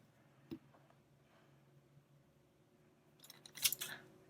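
Scissors snip wire and cord thread while tassel earrings are made at a crafting table, a short quiet cut near the start and a louder cluster of snips near the end.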